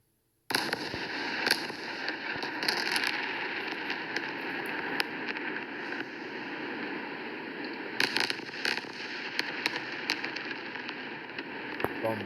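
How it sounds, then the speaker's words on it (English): Explosions from a bombardment crackle and pop in bursts over a steady hissing, distorted background, with a few sharper bangs standing out against the noise. "Bombarding the Palestinians, okay?"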